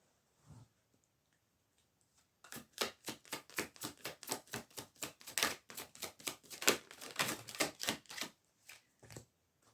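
Tarot cards shuffled in a fast, crisp riffle, a rapid run of close, light clicks lasting several seconds with no voices over them.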